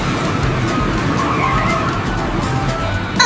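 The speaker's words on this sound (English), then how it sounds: "Here's the bumper cars! Let's see who's the best driver." Cartoon bumper cars drive and skid with a loud, close engine whir and rough tire scrubbing, ending in a brief rising squeal.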